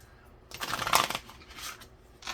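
Cards being shuffled close by, a quick riffling burst followed by softer shuffling, quiet otherwise with no voices.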